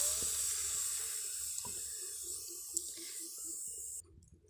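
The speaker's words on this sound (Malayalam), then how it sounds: "ഒരു ചായയ്ക്ക് ആവശ്യമായിട്ടുള്ള വെള്ളം ഒഴിച്ച് കൊടുക്കാം." Water pours steadily into a pan on the stove for a single cup of tea, a continuous hissing, splashing stream close by that runs for about four seconds and then stops abruptly.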